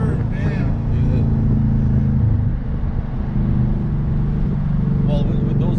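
A Dodge Challenger on drag slicks with a new exhaust roars steadily under hard third-gear acceleration, a loud continuous engine drone heard from inside the car while people talk over it.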